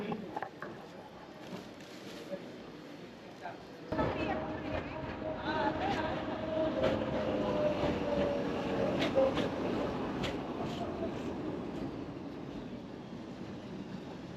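Tram in Budapest arriving on city tracks, a low rumble that swells suddenly and keeps rolling with faint rail clatter and squeal, while people talk nearby.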